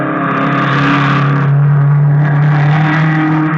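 Steady, loud engine roar of a low, cut-down blue car racing along a sandy beach, a continuous droning rumble that swells slightly midway, staged as a radio drama effect.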